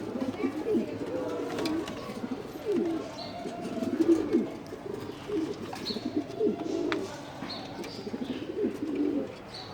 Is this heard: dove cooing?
yes